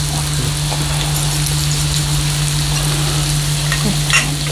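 Liver sizzles on a Thai pork grill pan, a loud, continuous dense frying crackle with a steady low hum beneath, close up and uninterrupted.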